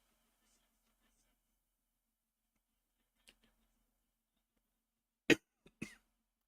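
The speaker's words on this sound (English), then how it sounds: "I'm sorry, guys, about the coughing." A few sharp coughs from a soccer match commentator, one loud then two smaller, close by against near silence.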